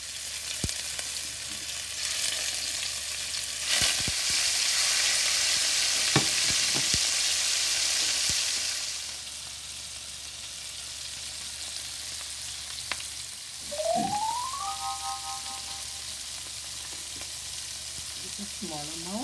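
Organic coconut oil sizzles steadily in a pan while fish stir fry is started, a loud hiss that eases after a while, with a few clinks.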